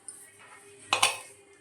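Chicken being stirred with about a tablespoon of oil in a bowl, giving soft clinks and scrapes of utensil against dish, with one brief louder clatter midway.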